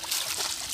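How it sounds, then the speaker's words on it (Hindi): Water gushes from a submersible pump into a rice paddy, a constant bright rushing flow heard close and fairly loud, with no speech over it. "ये पानी चल रहा है।"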